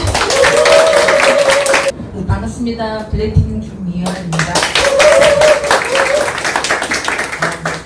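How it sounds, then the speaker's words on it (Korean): A room of listeners at an Amway business presentation claps to welcome a Platinum-level leader, bursts of close, loud clapping that break off while a woman greets the crowd, then pick up again. "박수 부탁드릴게요"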